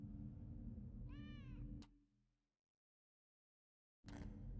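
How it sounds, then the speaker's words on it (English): Cat meowing once, a clear, rising-and-falling meow close by over a steady background hum, which cuts to silence and then returns. "Shut up, cat."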